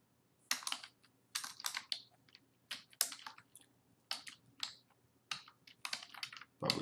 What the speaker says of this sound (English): I click here and I type in Lauren